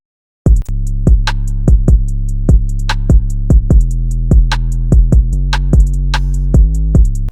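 A programmed hip-hop drum loop built in FL Studio: booming sustained 808 kicks on a steady beat, with sharp snares and hi-hat ticks over the top, loud and with no voices.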